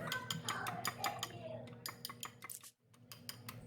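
Eggs seasoned with fish sauce and black pepper being beaten in a bowl, a fast rhythmic clatter of utensil against dish, close and clear, pausing briefly before resuming.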